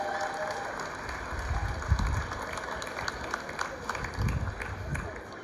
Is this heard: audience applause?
yes